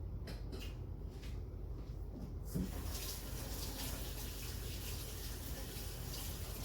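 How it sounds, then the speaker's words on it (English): Kitchen tap water runs steadily as a spoon is rinsed under it, a continuous close splashing rush that starts partway through and fills the rest, with a faint knock or creak near the start. "I have to rinse that spoon off"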